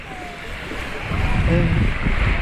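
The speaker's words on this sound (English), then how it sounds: "Here at the beach, guys" Surf washes in on a Mombasa beach, waves swelling and rushing louder partway through under gusty wind noise, with people talking close by.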